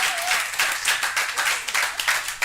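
A small comedy-show crowd cheers and claps during a one-minute comedy showdown, a dense, bright burst of applause with uneven surges lasting a couple of seconds.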